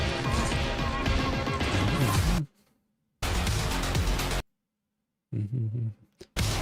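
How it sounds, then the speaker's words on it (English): Repeated loud crashing smashes of a bell in Dark Souls 2, heard in bursts separated by abrupt silences, each strike a dense, metallic clatter close up. "Why am I hearing that bell?"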